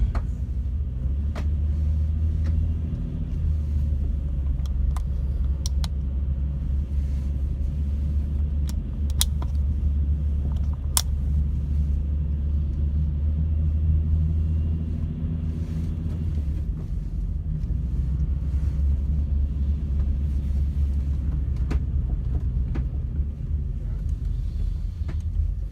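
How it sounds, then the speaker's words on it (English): A camper van engine hauls uphill on a steep road near North Head, a steady loud rumble and road drone running throughout with a few light clinks and rattles, no talk. "Another very steep road to climb up, drive up."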